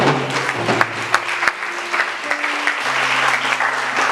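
A church congregation breaks into sustained applause and cheering at a French-language prophetic preaching service, a dense, steady clatter of many hands with scattered shouts, a low music or organ drone running underneath throughout.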